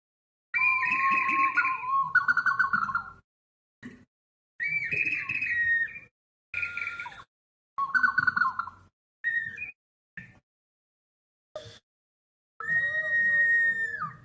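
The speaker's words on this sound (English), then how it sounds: "let's look at some Peruvian water whistles" Peruvian ceramic water whistles give a run of warbling, bird-like hoots and trills, each lasting a second or two and set off by short pauses, loud and close in a quiet room.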